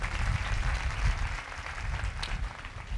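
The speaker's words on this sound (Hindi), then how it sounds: "जोरदार तालियां बजाएं।" Audience applause at a Hindi-language church sermon, a steady wash of clapping from a congregation filling the whole stretch at moderate loudness.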